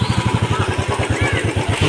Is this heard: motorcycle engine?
yes